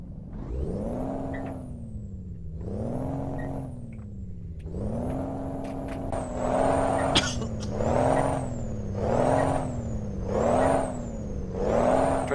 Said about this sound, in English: does that lorry sound absolutely sexy or what?